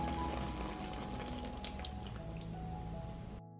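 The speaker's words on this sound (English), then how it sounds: "After 15 minutes of cooking, I add 250 milliliters of cooking cream." Cooking cream, 250 ml, poured into a pot of simmering soup, a soft close liquid trickle and splatter that thins out before stopping abruptly.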